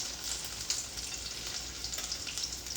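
Spanakopita patties frying in a pan, a steady close sizzle with crackling spits of oil running throughout, with no talk.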